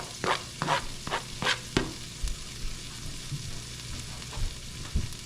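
Onions and green peppers frying in a pan, a steady sizzle under a cluster of quick scraping spatula strokes at the start, then quieter frying with occasional knocks, close and without speech.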